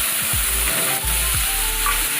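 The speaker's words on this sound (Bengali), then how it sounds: "চিংড়িগুলো তেলের ওপরে দিয়ে দিচ্ছি।" Small shrimp dropped into hot oil for a taro stem curry: a loud, steady, crackling sizzle close up, with low thumps and clunks of the pan underneath.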